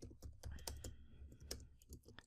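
Keys clack on a computer keyboard in quick, uneven bursts of close, faint taps while someone types into a PHP quiz page.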